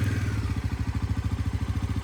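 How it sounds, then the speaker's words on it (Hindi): A Bajaj Pulsar NS400 or NS350 motorcycle engine idling just after starting, a steady low throbbing putter with even pulses, close and fairly loud, no talk. "बाइक को स्टार्ट करनी पड़ेगी पहले मुझे"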